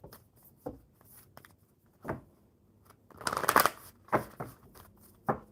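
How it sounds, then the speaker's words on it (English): Tarot cards are handled and shuffled up close: scattered soft taps and flicks, then a quick riffling burst in the middle, followed by a few more card snaps. "One more good shuffle."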